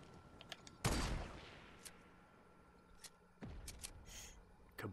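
Gunfire in the Fortnite video game, with a loud burst of shots near the start that fades, then a second volley later and scattered sharper cracks, heard with no talking.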